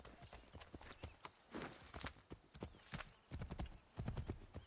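Horse hooves clip-clop in steady rhythmic beats with a whinny in Assassin's Creed 3 Remastered, fairly close and clear, continuing throughout without speech.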